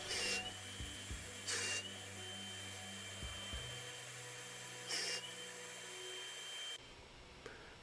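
Drill boring pocket holes in walnut boards for a stove cover, faint repeated short bursts of high whirring with brief motor spin-ups and pauses, no speech.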